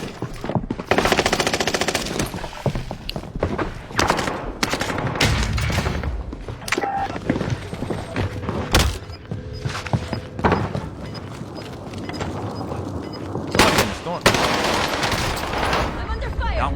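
Gunfire rattles through a battle royale video game in dense, loud bursts of rapid automatic shots and heavy booms, with short gaps between volleys and occasional voices underneath.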